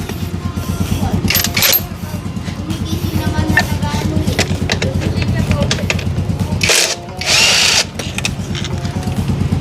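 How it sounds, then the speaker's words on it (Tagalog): A Makita impact driver works on a Honda Click 160 scooter during a radiator install, giving repeated bursts of loud rattling hammering close up, with short pauses between, while someone talks over it. "So para mapadali yung buhay natin, gagamitin na natin yung Makita Impact."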